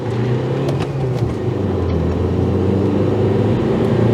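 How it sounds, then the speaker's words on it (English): Honda Accord Euro CN1 diesel pulling hard in first gear, a loud, steady engine drone that builds throughout with a close, continuous low rumble. "Put it in first, feel the power of the diesel."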